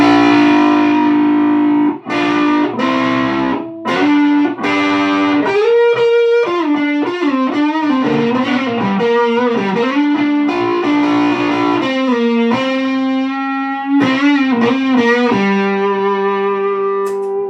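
Heavily distorted electric guitar through a VHT D-Fifty high-gain amp with preamp boost, playing sustained chords and riffs, loud and saturated with no voices.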